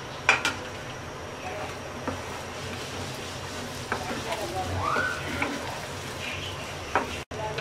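Raw mango pieces dropped into roasted mustard in a hot pan, a low steady sizzle with a few sharp knocks and stirring scrapes, fairly quiet throughout.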